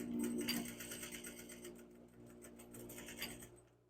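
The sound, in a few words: sewing machine stitching a shirt collar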